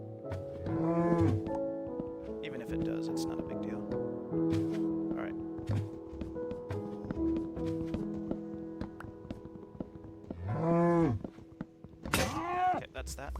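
A baby cow in Minecraft moos several times, short drawn-out calls rising and falling, heard over steady game music while a person talks nearby.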